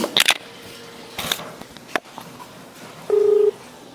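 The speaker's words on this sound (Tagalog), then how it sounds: "Tatawagan po natin si Sir Jojo Tubera ngayon." Telephone being dialed to place a call: a few quick key beeps, a pause, then a short steady dial tone, loud and close with little else around.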